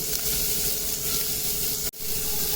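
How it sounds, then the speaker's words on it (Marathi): Capsicum, carrot, cabbage and green peas sizzle steadily while being sautéed in a pan, a continuous close hiss with faint stirring and a brief dip near the end. "हिरवा वाटाणा छानाचं परतून घ्यायचं."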